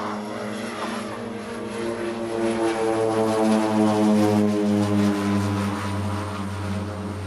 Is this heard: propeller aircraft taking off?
yes